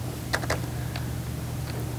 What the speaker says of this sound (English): I want to type in cardiovascular.